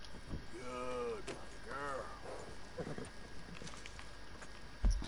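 A horse clip-clops at an easy gait in the video game Red Dead Redemption 2, quiet regular hoofbeats continuing under a man's speech and a low background hum.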